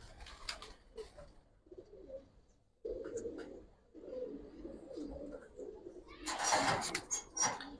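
Giribaz pigeons in a loft make soft, low cooing calls in repeated bursts, with some wing flutters and rustling, and a louder burst of flapping near the end.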